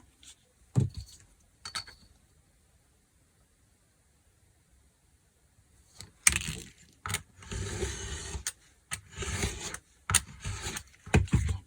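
Scissors or a blade cut through a collaged master board for a junk journal cover, a few isolated snips and then a busier stretch of rough cutting and scraping, close and moderately loud.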